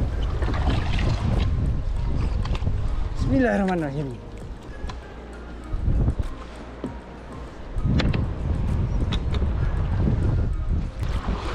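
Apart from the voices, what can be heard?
boat riding over rough sea waves with wind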